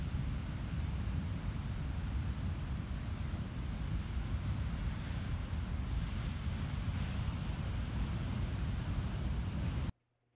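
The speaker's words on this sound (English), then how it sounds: "I loved sleeping right by the roar of the ocean" Steady, loud ocean surf roars at a beach campsite in Baja, a continuous wash of breaking waves with some wind rumble, ending abruptly in near silence.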